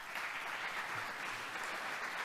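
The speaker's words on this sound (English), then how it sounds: "Give him a round of applause." Audience applause at a business technology summit as an executive walks onto the stage, a steady, even wash of many hands clapping at moderate distance with no one speaking.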